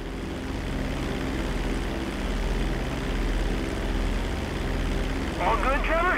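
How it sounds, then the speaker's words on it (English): Propeller plane in GTA 5 droning steadily with a continuous engine rumble, while game characters talk over it near the end. "Bring the plane back in."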